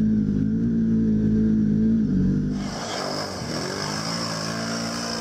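An ATV engine labours up a steep hill of soft sand during a cross-Newfoundland trip, droning loud and steady before the pitch shifts and the exhaust note roughens under heavier strain.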